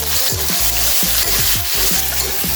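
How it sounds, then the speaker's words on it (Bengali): Thickly cut onions and special spices sizzle loudly in hot oil in a kadai, a dense continuous crackle broken by the rhythmic scrapes of stirring, with no talking. "এবার দিয়ে দিচ্ছি মোটা করে কাটা পেঁয়াজ।"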